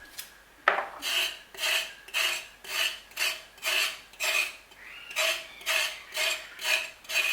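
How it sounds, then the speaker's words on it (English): Carrots being scraped clean with a knife, a rhythmic series of about eleven rasping strokes, each a short scratchy swell repeating roughly every half second, close and alone. "So I'm just going to clean my carrots as follows."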